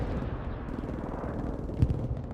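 Dense, continuous gunfire from the World War II shooter Hell Let Loose, a steady rattle of rifle and machine-gun shots with one louder burst near the end and no voices.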